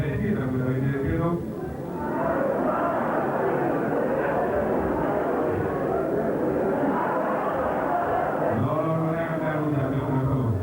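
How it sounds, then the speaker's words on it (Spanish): An airplane roar plays during a hypnosis show at a 1991 disco, a broad continuous rushing drone with a presenter's voice talking over it at the start and end. "Tiene muchísimo miedo a esos aviones."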